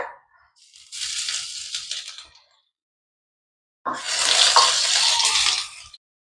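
Crushed ginger and garlic hit a spoonful of hot oil in a pan, bursting into a loud close sizzle, then a second, stronger burst of frying that holds steady for a couple of seconds before stopping.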